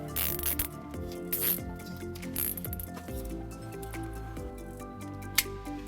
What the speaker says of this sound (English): we'll go ahead and secure it using some zip ties